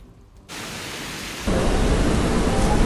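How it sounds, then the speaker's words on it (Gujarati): Heavy monsoon rain during a cloudburst-like downpour in Dang district, Gujarat, roars as a loud, steady wash, then swells louder halfway through with a deep rumble of thunder underneath; no voices. "ડાંગ જિલ્લાની અંદર જોરદાર વરસાદ વરસી રહ્યો છે"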